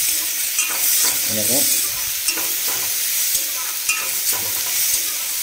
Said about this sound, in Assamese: এতিয়া সুন্দৰভাৱে এইখিনি অলপ ভাজি ল'ব